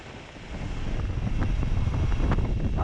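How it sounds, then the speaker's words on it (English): Wind buffets the microphone while riding a Suzuki V-Strom 650 motorcycle past open agricultural fields, a loud, constant rushing roar that swells after the first half second and holds steady. "it's getting windier and blacker by the second, or by the minute anyway"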